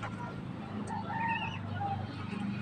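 Rooster among a mixed flock of fowl and ducklings clucks amid steady farmyard ambience, with a brief crowing-like call in the middle; no speech.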